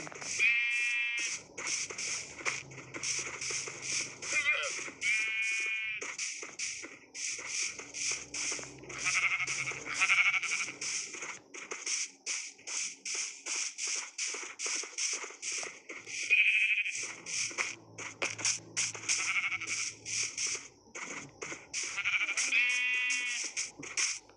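Sheep in Minecraft 1.19 bleat repeatedly on a farm, several short, nasal digital bleats coming in clusters, some overlapping, fairly close and clear with no talking.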